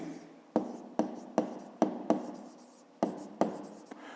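A pen scratches across paper during a fifth-grade maths exercise, in a run of about nine sharp strokes at an uneven rhythm, each one a crisp attack that fades back into a soft, close scratching.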